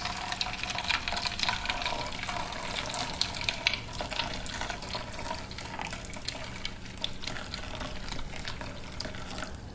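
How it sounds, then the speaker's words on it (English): Hot water poured from above onto ice cubes in a container, a steady splashing, gurgling stream that carries on for the whole stretch, fairly loud and close, with no talking. "once I pour the hot water into it,"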